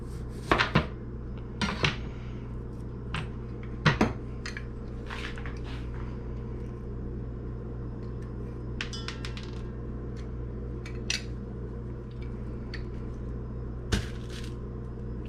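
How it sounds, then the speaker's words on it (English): A lime being rolled and juiced by hand at home, with several brief squishing and knocking bursts scattered over a steady low room hum, no talking. "we roll the lime before we juice it because that makes it give up more juice"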